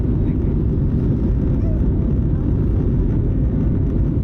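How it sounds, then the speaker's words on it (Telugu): An airliner comes in to land in Malaysia, heard from inside as a steady, loud, low cabin rumble of engine and airflow throughout. "ఇప్పుడు ఇంకా ఫ్లైట్ అయితే ల్యాండ్ అవుతుంది."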